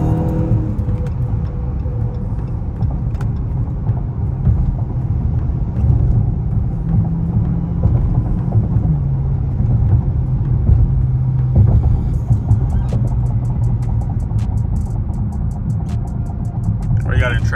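A 2020 Dodge Charger Daytona cruises on a road, its engine and tyres giving a steady, close low rumble that runs through the whole stretch, with faint rattles near the end.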